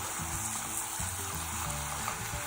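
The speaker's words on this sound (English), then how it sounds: "we're gonna keep stirring the onions around" Onions sauté in melted butter with a quiet, steady crackling sizzle, while low pulsing tones from something else in the room run underneath.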